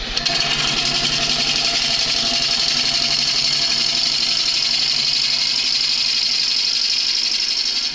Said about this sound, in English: Speed the lathe up a little bit.